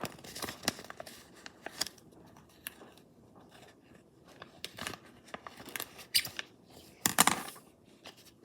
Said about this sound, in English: So let's use scissors to open it.